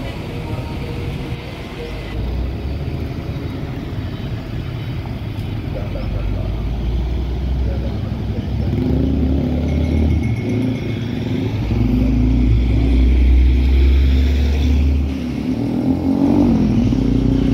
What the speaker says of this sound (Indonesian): Masuk satu unit lagi bus Al Hijrah dengan Scania K410.